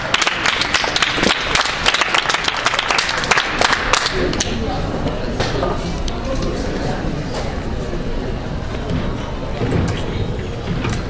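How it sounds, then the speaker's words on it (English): Audience applause at a university student event, a dense burst of clapping that starts loud and gradually thins into scattered claps and crowd murmur, with speech audible in the room. "if you please give him a round of applause"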